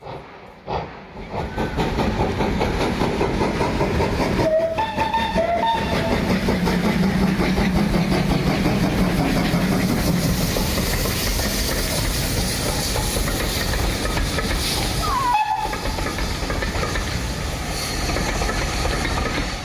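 Steam locomotive 7812 pulling away from Highley station on the Severn Valley Railway, with a loud continuous rumble and hiss and some clanking, sustained and close throughout.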